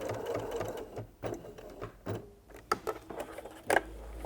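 Sewing machine stitching a box shape on a fabric tool belt apron, slow short bursts of close needle clatter with pauses and fabric handling between.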